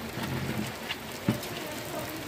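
Soft, steady rain falls in a garden, a gentle hiss with a single faint knock partway through and no one speaking.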